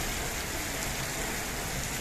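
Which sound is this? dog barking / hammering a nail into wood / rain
rain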